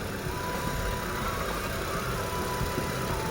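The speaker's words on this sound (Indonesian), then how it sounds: "lanjut kita cek mesinnya, kita hidupkan. Oke, langsung terjreng, posisi AC mati." A small 1000cc car engine idles with the air conditioning off, a steady, even hum without stumbling, close and continuous with no talking.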